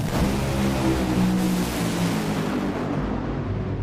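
Roaring drag racing engines at an NHRA New England Nationals pro race between Tony Schumacher and Doug Coletta, a loud continuous wash of engine noise that stays steady, then thins toward the end.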